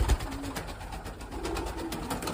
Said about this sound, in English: You're gonna start moving your pigeons